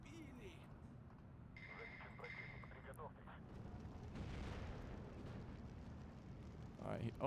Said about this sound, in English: Let's continue our smoke barrage over here